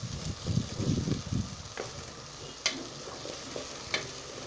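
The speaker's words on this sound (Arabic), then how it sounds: "نحمر بقى البصلية دي يا جماعة اهي" Onions fry in oil for Egyptian koshari. Close stirring and scraping clatter comes first, then a softer continuous sizzle with a couple of sharp utensil clicks.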